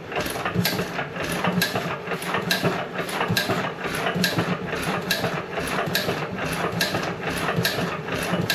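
A John Deere 1.5hp gas engine struggles to start and run, chuffing in a fast, steady rhythm of sharp, evenly spaced beats over a low mechanical rumble, close up with no voices.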